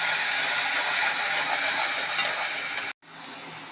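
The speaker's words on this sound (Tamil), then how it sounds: "இது நல்லா பச்சை வாசம் போகிற வரைக்கும் வதக்கணும்." Ground masala paste with roasted peanuts sautéing in a pan, a loud continuous sizzle and hiss up close that drops off abruptly near the end, then returns more quietly.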